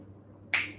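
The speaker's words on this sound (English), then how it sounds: "when I snap my fingers, there will appear, and only when I snap my fingers" A single crisp finger snap, close and sharp, breaks a near-silent room and trails off with a short decay.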